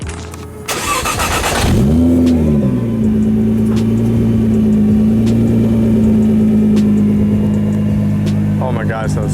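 A 700hp Rocket Bunny Nissan GT-R fires up with a brief loud whir, then settles into a steady, droning engine hum heard close with the windows down, while faint voices come in near the end.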